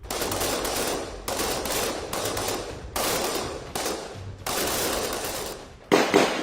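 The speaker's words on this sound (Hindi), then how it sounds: "इस समय ये फायरिंग रेंज में प्रैक्टिस कर रहे हैं।" Para special forces commandos fire on a firing range, with several long bursts of rapid automatic gunfire, each separated by short pauses, loud and close, followed by a sharp final shot.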